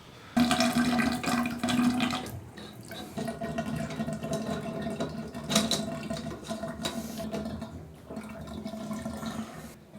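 A shower running after a drain overflow gasket repair, heard as a steady close hiss and splash of falling water with some fluctuating surges and no talk.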